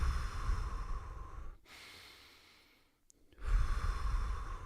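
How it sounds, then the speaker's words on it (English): Slow, smooth breathing sounds close to the microphone: a long continuous airy breath, a quiet pause, then another breath starting. "Smooth inhale, smooth exhale."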